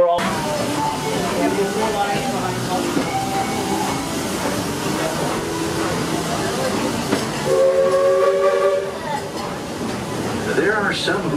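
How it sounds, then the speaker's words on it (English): The steam train at Magic Kingdom rolls along with a steady rumble and clatter of its carriages, and partway through a whistle blows a few sustained tones, while voices talk over the running train. "There are some who say that this steam train is a little old-fashioned, but for me, it's the only way to travel."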